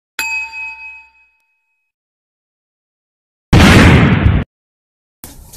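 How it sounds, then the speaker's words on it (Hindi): Diwali firecrackers bursting: a ringing metallic ding fades out, then after a silence comes a loud, harsh blast lasting about a second, followed by another sharp burst at the end. "पटाखे फोड़ने"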